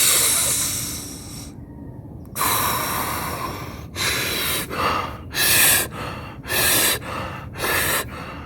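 Slow, deep breaths in a breathing exercise, loud and close, with a long inhale followed by a series of forceful rhythmic exhales and gasps, no talking.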